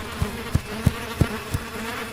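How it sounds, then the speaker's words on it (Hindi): Swarm of flies in an animated camping horror story, a low droning buzz with five sharp rhythmic pulses spaced about a third of a second apart, moderately loud with no voices. "उस लड़की के मुंह और आंखों से हजारों मक्खियां निकलने लगी"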